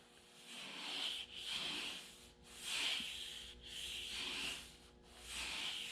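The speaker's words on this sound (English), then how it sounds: "You can hear the difference in how my hand slides across there, just because this has not been sanded." A bare hand slides repeatedly over an unsanded car cowl near the cowl vent, giving five rhythmic, close-up rubbing strokes with a dry, raspy hiss and short pauses between passes.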